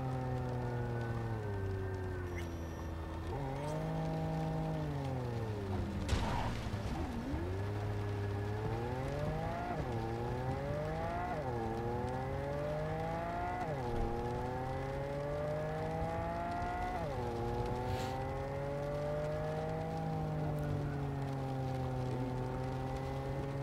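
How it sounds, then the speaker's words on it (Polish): Car engine in the video game Cyberpunk 2077, heard with the radio muted: a steady, continuous engine drone that rises and falls in pitch as it revs and shifts, close and alone with no talk. "Specjalnie wyciszyłem radio, żeby móc właśnie sobie silnika posłuchać."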